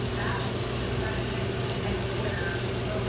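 Ravioli cooking in a pot of boiling water gives a steady, dense bubbling hiss with a low rumble, continuous and fairly loud throughout, with no talking.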